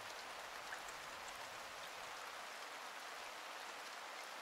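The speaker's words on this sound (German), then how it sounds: "Ich stehe da im Regen draußen." Steady rain falls outdoors in the blacksmith-shop video game Blacksmith Master, a soft, even hiss of drops that continues without change and with no talk.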